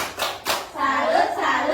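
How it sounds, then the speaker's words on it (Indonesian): A class of sixth-grade primary school children claps together in a 'tepuk salut' cheer in an Indonesian classroom, a few loud hand claps followed by steady chanting voices. "Beri tepuk salut untuk kelompok 2."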